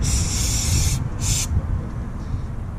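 Two bursts of hissing spray from an aerosol cleaner can onto an idle air control valve, a long one then a short one, close and loud over a low background rumble.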